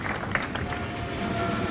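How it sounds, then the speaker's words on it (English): An audience at an official launch event applauds a drill team, a steady patter of clapping from a crowd at moderate distance, continuous and fairly even across the short stretch. "give a big round of applause to the team that has taken us through the drill"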